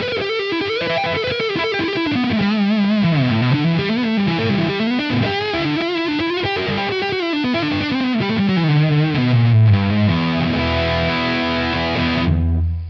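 A distorted, Marshall-style electric guitar tone from the neck pickup, shaped through a Tonex amp model, plays a continuous melodic riff with sliding and bending notes and ends on a ringing chord that is abruptly stopped.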